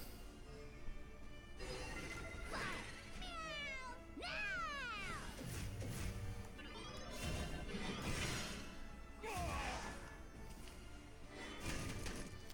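Cat meows and caterwauls from the Cat Cannoneer card in the Shadowverse video game, several rising and falling cries mixed with crashing and whooshing game effects, moderately quiet throughout.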